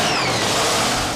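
A race car engine at a 2002 FIA event in Alastaro is cranked over before starting, giving a steady, loud, continuous mechanical whir with no firing bursts, close and alone throughout.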